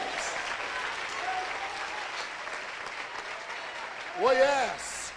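A church congregation claps in a sustained, even wash of applause, with a short vocal cry rising near the end.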